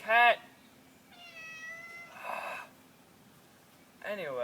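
A cat meows several times, short harmonic cries with rising and falling pitch, loud and close at the start and end, with quieter drawn-out calls between.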